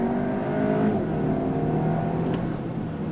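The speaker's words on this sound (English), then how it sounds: "I put it back in automatic shift mode. On throttle, here we go." A 2023 VW Arteon sport sedan accelerates hard under throttle in automatic shift mode, its engine a loud, steady, rising drone heard from inside the car, with no talking over it.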